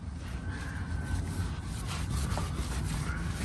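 A cloth rubs steadily by hand over a car exhaust tip being polished to a mirror shine, making a continuous close scrubbing hiss without pauses or speech.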